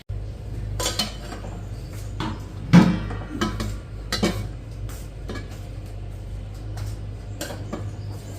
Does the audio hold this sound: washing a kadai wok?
yes